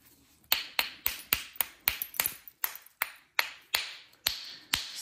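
Alabama Coastal Plains chert being knapped, a sharp clicking tap repeated about a dozen times at a steady, quick rhythm, close and crisp with short ringing decay and no talk.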